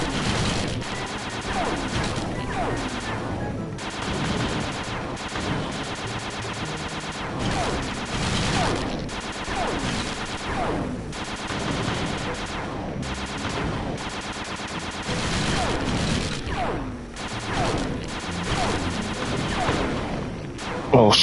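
Turret gunfire blasts in the Sly Cooper video game turret mission, dense, loud and continuous volleys of rapid shots and booming impacts that go on for about twenty seconds with hardly a pause.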